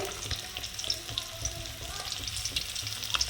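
Fish pieces fry in oil in a pan for a home-style thin fish curry, a soft close crackling sizzle with scattered light pops and faint stirring.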